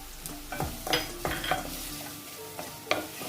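Sliced onion and green chillies sautéed in a pan for bitter gourd thoran, with soft sizzling under repeated scraping and clinking strokes of a spoon against the metal pan, close and moderately loud, no voices.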